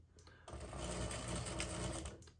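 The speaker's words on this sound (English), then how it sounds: "I'm gonna turn on my sewing machine, then I'm gonna sew directly onto that chalk line" A sewing machine stitches fabric for a pillowcase in a short, quiet burst of rapid needle clatter, close and alone.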